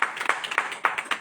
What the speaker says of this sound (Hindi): दादा के लिए ताली हो जाइए।